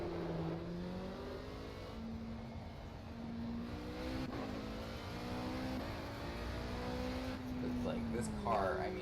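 Alpine A450 race car in Project Cars on the Nurburgring, its engine pitch climbing and dropping through repeated gear changes, heard steadily from on board while someone talks over it.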